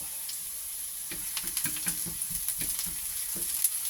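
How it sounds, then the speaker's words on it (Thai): Garlic being stir-fried in a pan for a noodle dish, with a steady sizzle and irregular scraping, tapping stirring strokes, close and moderately quiet with no talking. "ผัดกระเทียมให้หอมแบบนี้นะคะ"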